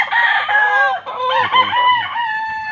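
Gamecock stags crowing close by, one loud drawn-out cock-a-doodle-doo followed by overlapping crows from another bird, with a few clucks, filling the short stretch without talking.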